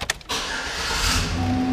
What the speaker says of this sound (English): Truck fires right up.